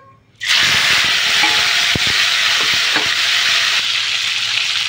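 Tomatoes drop into hot oil already seasoned with cumin and bay leaf, bursting into a loud, steady sizzle that holds strong throughout, with a few faint clinks of a spoon stirring the pan.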